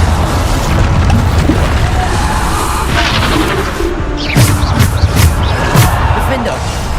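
Bombarda blasting spells in Hogwarts Legacy, played on hard difficulty, go off as a series of booming magical explosions and crashes amid steady game noise, with several bursts standing out in the second half.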